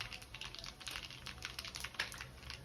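Fennel seeds spluttering in hot oil in a pan, a faint rapid irregular crackle and patter of tiny pops running continuously, close but quiet with no talk.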